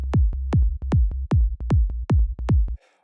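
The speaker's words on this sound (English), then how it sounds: "select a sine wave. It's gonna sound like this." A deep sine-wave synth bass in Serum, pitched down two octaves, pulses in a steady rhythm of repeated notes, each with a sharp onset that drops away quickly. It is loud and clean and ends in silence.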